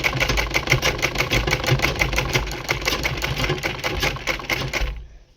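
A sewing machine stitches a blouse with a fast, even mechanical clatter, loud and close, running steadily for about five seconds before stopping abruptly.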